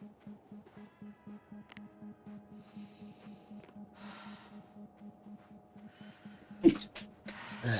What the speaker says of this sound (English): Just sneezed.